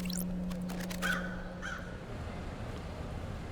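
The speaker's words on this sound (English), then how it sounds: "I like crows." A crow caws a few times in the video game Paradise Killer, short harsh calls in the first second and a half over a low steady hum, then fading into quiet ambience.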